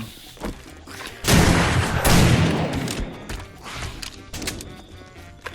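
Gunfire in the video game 7 Days to Die: a loud, dense volley of rapid shots and booms that peaks and then fades into scattered thumps and impacts.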